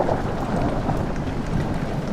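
Steady, dense rainfall with a low rolling thunder rumble fills the scene continuously in the video game Amnesia: The Dark Descent, on its Rainy Hall level; no voices.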